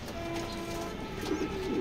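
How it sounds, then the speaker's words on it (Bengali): Racing pigeons in a loft coo softly in low, drawn-out notes, faint and close amid a light background hum, with no voices. "কবুতরটা মাশাআল্লাহ বিগ সাইজের কবুতর, অনেক ভালো রানের কবুতর"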